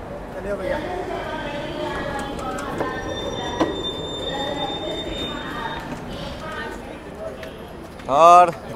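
At New Delhi railway station, train wheels give a loud, brief squeal near the end, after a stretch of busy platform chatter and crowd noise with several voices talking.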